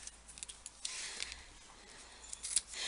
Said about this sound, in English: all I've done is just sliced a little corner off the edge